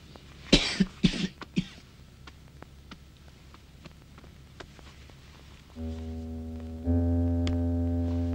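A few short coughs close up at the start, followed by quiet, then a steady low electronic hum that comes in and grows louder.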